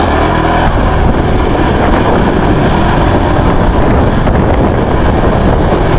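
Strong wind buffets the microphone continuously on a high bridge in Calamba City, a loud steady rumbling roar with no voices.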